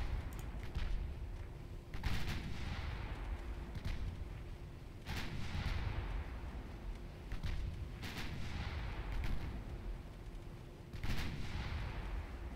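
Battleship main guns in the naval combat game Ultimate Admiral Dreadnoughts fire in heavy booming salvos roughly every three seconds, each with a rumbling tail, over a constant low background roar.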